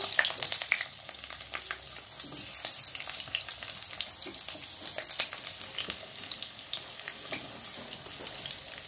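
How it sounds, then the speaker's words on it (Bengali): Sliced onions sizzle loudly in a kadai, a continuous close frying crackle with frequent stirring scrapes and clinks throughout, no voices. "আমি কড়াইতে পেঁয়াজটা দিয়ে দিচ্ছি।"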